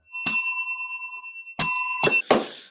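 Bright bell dings on a game show, one long ringing strike held for over a second, then two more quick rings in succession followed by a short burst of noise, loud and close with no talk over them.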